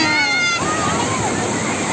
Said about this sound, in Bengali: একদম সো করে পানি নিয়ে যাচ্ছে ঢেউ এসে